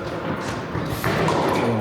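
A tennis ball struck hard on a first serve during a club tournament match, a single dull thud partway through against steady court and crowd noise, with faint voices in the background.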